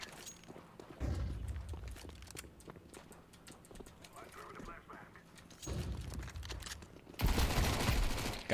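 Counter-Strike 2 gunfire crackles in bursts, with a loud volley near the start, a quieter stretch with a voice talking, then two more loud rattling bursts toward the end.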